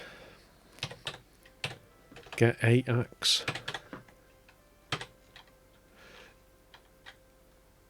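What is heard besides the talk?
typing on a VIC-20 computer keyboard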